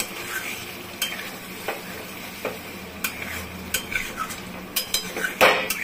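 Mutton curry gets stirred in a pan, a soft background sizzle under sharp intermittent clinks and scrapes of a spoon against metal, close and alone.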